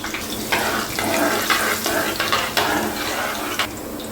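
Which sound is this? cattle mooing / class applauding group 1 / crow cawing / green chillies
green chillies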